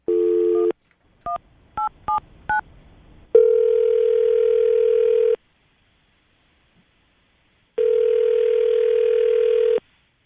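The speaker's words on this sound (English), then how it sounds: "I'm going to dial his phone number right now" A phone line tone, then a quick series of dialing beeps, followed by two long ringback tones separated by a pause of silence.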